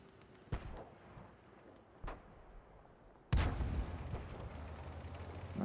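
Tank cannon shots in World of Tanks: two distant booming shots followed by a much louder, closer blast that leaves a lingering rumble.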